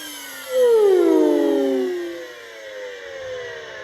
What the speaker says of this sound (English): I think that's actually the worst bearing noise I've ever heard in my life